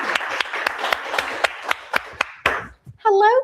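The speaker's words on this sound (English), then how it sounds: "Everyone, would you be so kind to give Kim a round of applause?" Audience applause at a kindness book launch, a dense burst of clapping with distinct sharp claps that fades out after a few seconds, followed by a voice beginning to speak.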